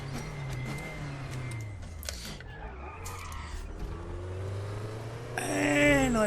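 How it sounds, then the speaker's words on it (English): Race car engine in the Raceroom racing game rising and falling as the throttle is blipped on and off, a steady droning note with a sharp squealing surge near the end, with a voice talking over it. "again, on and off the throttle to try and get it to rotate"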